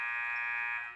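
Basketball game buzzer sounding in a school gym during a middle school boys' game, one loud, sustained electronic tone that holds steady and then trails off at the end.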